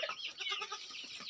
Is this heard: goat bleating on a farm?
yes